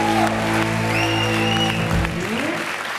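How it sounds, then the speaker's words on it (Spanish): Studio audience applause for a contestant on a comedy game show, a broad wash of clapping under sustained music tones and a sweeping tonal effect. "¡Aplauso para José Antonio!"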